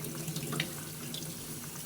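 A tap runs steadily into a sink while someone washes up, a faint, continuous rush of water from a little distance with no voices.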